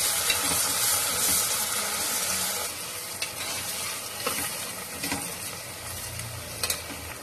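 A handful of mint and coriander sautés in a pot for mutton biryani, a bright sizzle that settles into a softer frying hiss with a few sharp stirring clinks, nearby and with no speech.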